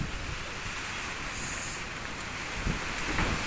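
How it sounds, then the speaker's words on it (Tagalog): Strong wind and rain from Typhoon Opong batter a house, a steady loud rushing roar with gusty bursts near the end. "Guys, yung hangin talaga. Nakauga na yung bahay ko guys."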